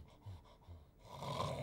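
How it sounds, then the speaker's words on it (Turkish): A man snores softly, with a couple of faint snorting, breathy pulls followed by a rougher, louder rasping inhale, close and quiet with no talk. "Beyefendinin horlaması ta öbür taraftan bile duyuluyor."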